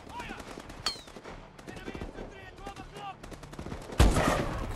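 Gunfire in Call of Duty Advanced Warfare on a hardened campaign mission: scattered rapid shots and clicks under in-game voices, ending with a loud close blast that rings out.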